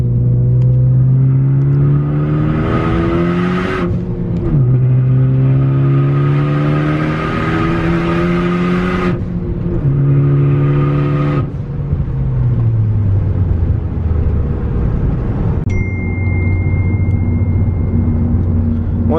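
A manual Ford Focus ST fitted with a big SBD turbo kit and tuned on 91-octane fuel accelerates hard. The engine note climbs steadily through several gears, with distinct drops at each shift, loud and close throughout.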